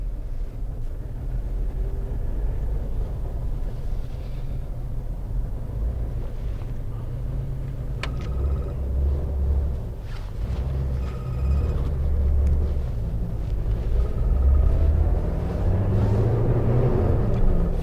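A 2003 Jeep Wrangler drives along with a steady low engine rumble, the revs rising and falling as it shifts from first into second gear, with faint clicks in the cabin.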